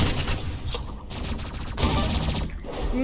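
An Uzi in the video game Roblox Rivals fires in rapid bursts of rattling shots, loud and close, with brief pauses between volleys.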